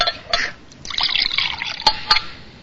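Water from a pitcher poured in a couple of short bursts, a light trickling splash with soft drips, close and fairly quiet, with no talk.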